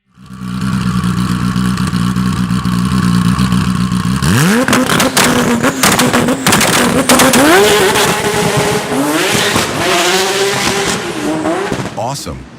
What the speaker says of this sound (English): The engine sounds like it wants to tear everything apart, including the car, and take off.